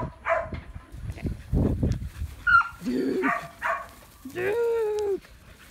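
A puppy lets out several short, high yips and whimpering barks in uneven bursts, fairly close, alternating with a person's voice talking nearby.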